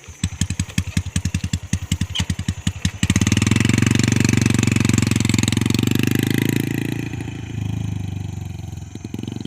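A Honda Wave 110i motorcycle engine, close and loud, first popping in rapid uneven blips, then revving into a sustained buzzing roar that eases slightly toward the end.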